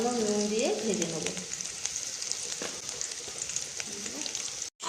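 Boiled potatoes fry lightly in oil in a kadai with turmeric and salt, giving a steady, close hiss and crackle throughout, with a brief voice near the start.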